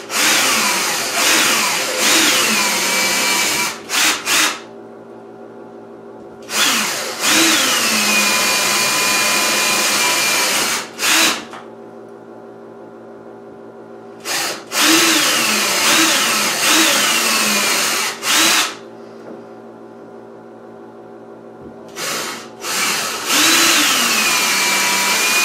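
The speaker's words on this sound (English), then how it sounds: "next thing we got to do is drill these holes for the drywall anchors" A power drill whines in several long bursts separated by pauses, loud and close, its pitch steady while boring holes for drywall anchors into a bathroom wall.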